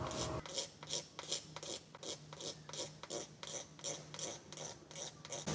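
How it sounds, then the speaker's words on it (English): Rhythmic raspy scraping of a razor blade on a paint run, about a dozen short downward strokes in steady succession, close and crisp, each a bright dry rasp with no voices. "So now I'll use the razor blade."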